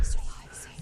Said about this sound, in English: Who's whispering again?